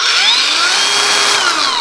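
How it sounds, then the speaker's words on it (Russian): An ALLSOME PT037-N cordless angle grinder is switched on and spins up with a loud, rising motor whine that settles into a steady high-pitched hum, heard alone and close. "включили мы болгарку"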